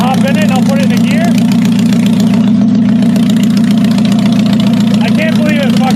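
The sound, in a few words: engine starting and idling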